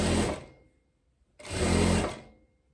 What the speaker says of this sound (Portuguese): Quando chegar aqui embaixo do braço, ali, ó, na costurinha, dá um arremate.